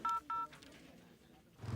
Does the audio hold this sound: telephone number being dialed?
yes